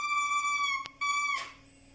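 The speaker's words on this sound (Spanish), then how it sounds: "Para hacerlo sonar se necesita esto que se llama caña y suena así" A lone oboe reed blown on its own gives a bright, buzzy held squawk with strong harmonics, briefly broken off and then resumed, ending in a short breathy crow before fading.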